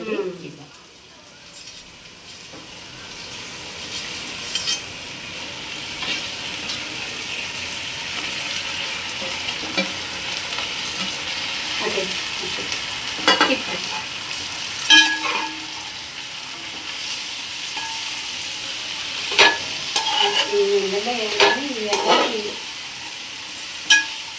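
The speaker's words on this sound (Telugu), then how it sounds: "అక్క ఇప్పుడు గోంగూర పెట్టేయక ఇట్లా ఉప్పు కారం ధనియాల పొడి అన్నీ వేసుకున్నాక మనం కట్ చేసి పెట్టుకున్న గోంగూర" Gongura leaves frying in a pan with salt, chili and coriander powder, a steady sizzle with scraping stirs and occasional clinks, while someone talks intermittently over the cooking.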